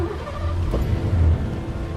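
A car engine in Heavy Rain hums with a steady low rumble, loud and close, holding even for a couple of seconds with no separate crank or ignition burst.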